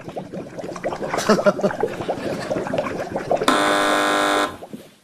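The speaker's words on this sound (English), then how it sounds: "Fingers on buzzers, teams." A loud, flat electronic quiz show buzzer blares for about a second, after a stretch of lively crowd chatter and laughter in a TV studio.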